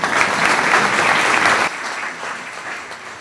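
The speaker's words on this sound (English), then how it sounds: "You can hold your applause on this" Audience applause at a judicial investiture ceremony: a dense burst of clapping fills a hall for about a second and a half, then cuts off abruptly, leaving quieter room noise and scattered movement.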